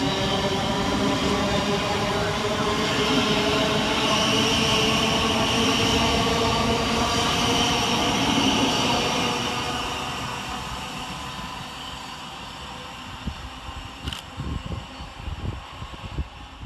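A Class 700 Govia Thameslink electric train runs through Hassocks station with a loud, steady rumble and a rising electric whine. The sound gradually fades as it pulls away, leaving some clanks and a brief squeal.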